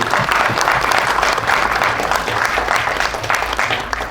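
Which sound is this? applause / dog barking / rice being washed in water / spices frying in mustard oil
applause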